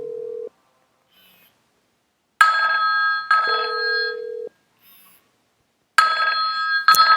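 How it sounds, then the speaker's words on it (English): A VoIP telephone ringing tone over a FreePBX IAX trunk repeats in short electronic bursts separated by silence, starting with a low steady tone followed by brighter warbling rings. "and now it's ringing"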